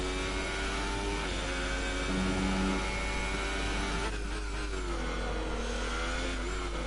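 Race car engine heard from on board during a lap of the French GP in a racing video game, continuous high revving with pitch climbing through gears and dropping sharply on downshifts, loud and constant.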